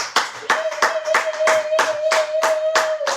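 Congregation at a Sunday worship service clapping in a steady rhythm of about ten sharp claps, close and loud, with a sustained sung or hummed tone running beneath.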